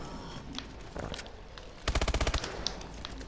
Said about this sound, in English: So now we've got the MP11. Now as you can see, it's rapid fire.